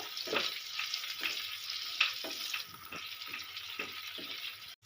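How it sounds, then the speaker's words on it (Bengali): Bitter gourd (korola) frying lightly in a pan, a steady broad sizzle broken by repeated scraping stirs of the spatula, close and moderately loud with no voices. "হালকাভাবে আমি ভেজে নেব আর দু মিনিট আমি এরকম নেড়ে চেড়ে ভেজে নেব"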